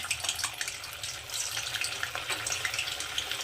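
Semolina langcha sweets frying in oil over medium heat, a steady close bubbling sizzle that continues throughout with no pauses and no talking.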